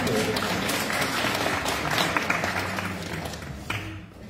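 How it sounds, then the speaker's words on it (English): Applause from a church congregation during a Sunday service, a dense spread of clapping across the room that holds steady and then thins toward the end. "Give her a round of applause."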